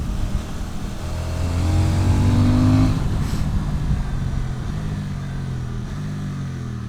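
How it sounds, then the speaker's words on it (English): A KTM motorcycle engine revs up and accelerates, its pitch climbing steadily and loud for several seconds before settling into a steady, rumbling drone. "Oh man, this is such a hooligan motorcycle."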